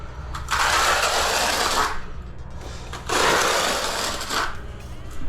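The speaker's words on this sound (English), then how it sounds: "I'm using a 15mm trowel." A 15mm notched trowel, somewhat worn, spreads tile adhesive in two long, close scraping strokes with a short pause between them.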